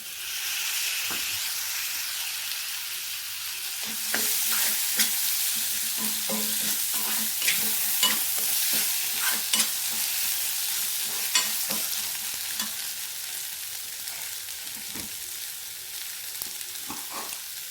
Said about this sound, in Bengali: এবার এতে আমি দেবো টমেটো কুচি